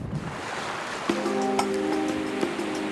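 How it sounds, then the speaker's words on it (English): Waves wash continuously at an exposed Caribbean island anchorage behind a reef, a steady surf hiss with a faint tonal hum and a few sharp knocks over it. "Still get some waves in here."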